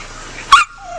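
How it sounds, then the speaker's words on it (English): At an auto shop, a dog gives a single sharp bark followed by a brief high whimper, close and loud against a quiet background. "that's one of the dogs at one of these auto shops"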